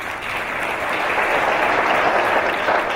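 An audience applauds at a women's empowerment awards ceremony, a steady, dense wash of clapping that holds for a few seconds with no voices over it.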